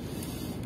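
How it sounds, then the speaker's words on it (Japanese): Lower bolt being removed from the left rear shock absorber of a Kawasaki ZRX motorcycle in a garage, with a nut on the back side. Produces a brief, steady, close mechanical whir like a power tool spinning, with no talking. "下側のボルトを外します。"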